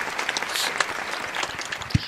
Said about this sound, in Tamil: கைத்தட்டல் கொடுக்கலான்னு நினைக்கிறேன்.